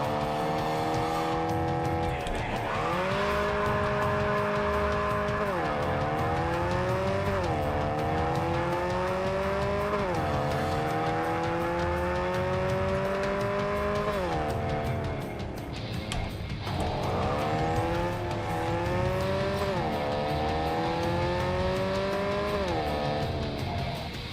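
A car engine in Cyberpunk 2077 revs loudly through repeated rising gear shifts, droning high and constant with brief dips between accelerations.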